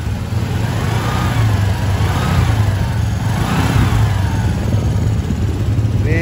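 A Suzuki Spin 125 motorcycle engine, a bike that reportedly dies suddenly on long rides, runs loud and close in a workshop, holding a steady mid-pitched drone with a few rising revs and no talking.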